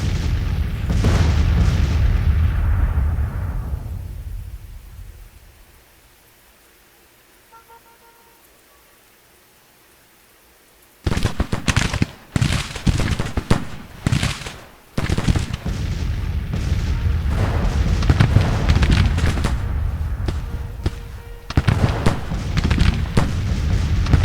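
Civil War battle gunfire and artillery in the strategy game Grand Tactician: heavy booming volleys and rolling musketry, loud and dense, fading out into near silence before erupting again in repeated crackling bursts and deep blasts.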